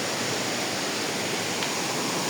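A short, steady roar from the Sonjha Kuna waterfall: a continuous wash of rushing water at an even level, heard on its own without talk.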